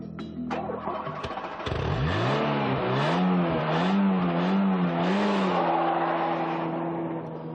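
A Renault Clio RSi with a 1.8-litre 8-valve engine cranks and starts, then revs up and down in several rising and falling swells before settling to a steady idle, loud and close with no talking.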